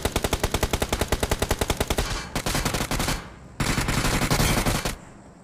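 Gunfire in a battle royale video game: a fast, even burst of automatic fire for about two seconds, then two more dense sustained stretches of shooting, loud and close, with no talking.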